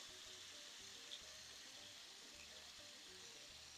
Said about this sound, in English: Now listen to the sizzle.